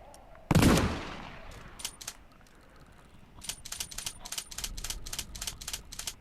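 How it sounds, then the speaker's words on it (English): A shotgun blasts once, loud and close, in the VR shooter Contractors, followed after a pause by a run of sharp metallic clicks and clacks as the spent shell is ejected and a fresh one loaded. "And now you can fire. And eject the empty, put new one in."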